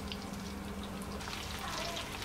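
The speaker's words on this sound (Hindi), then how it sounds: "अब इसमें मैं स्पून चलाऊंगी और इसको इसी तरह से फ्राई होने दूंगी थोड़ी देर और" Pizza samosas made with bread fry in a pan of oil as a spoon stirs them, giving a steady, soft, continuous sizzle with faint crackles throughout.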